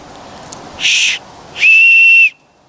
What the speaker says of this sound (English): I have this deer antler whistle